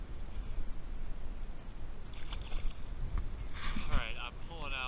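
Strong wind gusting on a lake during bass fishing from a boat, a constant roaring buffet with water slapping, close and loud, with brief voice-like sounds near the end.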